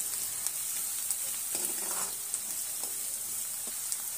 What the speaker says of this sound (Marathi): आता हे व्यवस्थित आपल्याला परतून घ्यायचं आहे